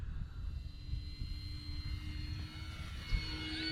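Small electric E-flite RV-7 low-wing RC model plane, about 1.1 m span, flying a close pass with a steady high motor whine that swells slightly near the end over outdoor wind rumble.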